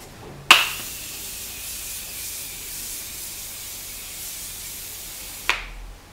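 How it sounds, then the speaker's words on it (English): A single sharp click starts a steady, airy hiss of Morphe Continuous Setting Spray Mist lasting about five seconds, ending with another click, close and alone. "hit my face with a little bit of the Morphe Continuous Setting Spray Mist"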